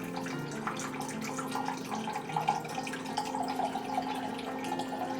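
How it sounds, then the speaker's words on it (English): Half a cup of rice wine vinegar poured into a dumpling sauce mixture, a steady thin liquid stream with light splashing, continuous and fairly close, no talking. "Another 1/2 cup of good old rice wine vinegar. So that goes in. Let's get that poured in."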